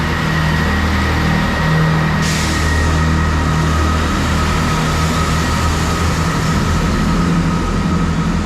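A Class 165 diesel train departing a station, a loud continuous low engine drone with steady rumble throughout, rising slightly as it pulls away.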